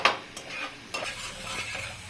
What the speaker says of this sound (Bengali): এখন নাড়াচাড়া করব, করে পরে জল দেব।